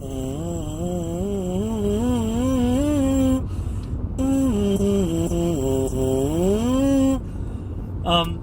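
A brass mouthpiece buzzes alone inside a car in sliding, wavering pitches, climbing and dipping through several long phrases over a low, steady hum of background noise.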